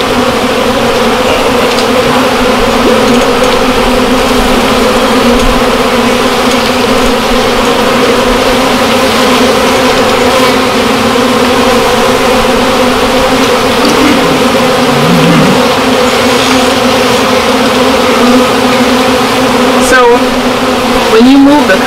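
A relocated honeybee colony fills the air with a steady, dense buzz of many bees close by, sustained throughout with occasional nearer passes, while people talk over it.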